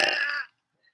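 A single short, raspy burp lasts about half a second, close and fairly loud, followed by silence.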